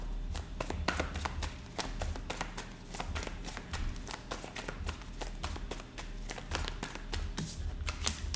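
Tarot cards are shuffled rapidly and repeatedly, a dense run of crisp riffling snaps and taps at close range with no voices.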